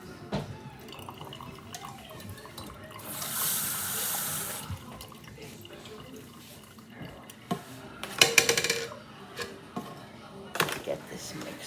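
Kitchen tap running into a sink for about two seconds, followed by clinks of pans and utensils, drips and soft handling noises, fairly quiet and close.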